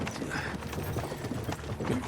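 Horses' hooves clip-clopping on a road in the medieval video game Kingdom Come: Deliverance II, a close, steady walking rhythm of overlapping hoofbeats that carries on throughout.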